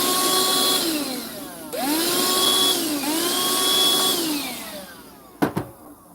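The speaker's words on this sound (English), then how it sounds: "So I vacuum it before opening the hide so that all the dirt doesn't come splattering out." A vacuum cleaner sucks accumulated dirt off the tops of gecko hides, a loud steady motor whine whose pitch swoops up and down as the nozzle meets the surface, ending in a couple of sharp clunks.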